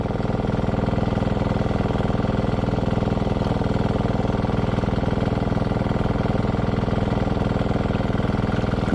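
A water pump's engine runs steadily and loudly at close range, a constant dense mechanical drone with a fast even throb for the whole stretch, with no voices.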